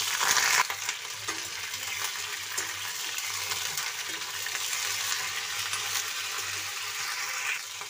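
Cauliflower florets hit a hot kadhai (wok) with a loud initial sizzle, then settle into a steady, close frying crackle that continues with light stirring throughout.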